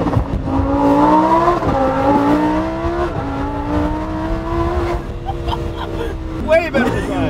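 A Lamborghini STO with an opened-up exhaust revs, its engine climbing in pitch, holding, then dropping back to a steady drone, loud and close, with a few voices in the background.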